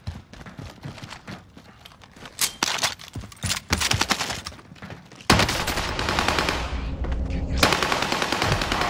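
Rapid bursts of automatic gunfire in a Call of Duty Warzone battle royale match on Modern Warfare 2022, loud and close, with scattered single shots giving way to sustained dense firing.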